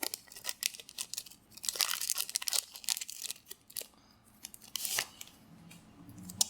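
A Pokémon XY Ancient Origins booster pack is torn and crinkled open at close range, with irregular bursts of ripping and crackling foil over several seconds and no voices.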